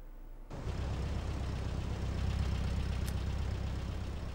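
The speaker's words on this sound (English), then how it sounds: "So I just recorded a car idling." A car idles in the PS2 game Beverly Hills Cop, a steady low engine drone that starts abruptly after a half-second lull and holds at an even level with a faint click midway.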